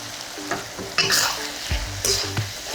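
Beef and curry paste sizzle and crackle in a hot pan while a utensil scrapes and stirs, with bursts of louder frying as kaffir lime leaves and green peppercorns are tossed in.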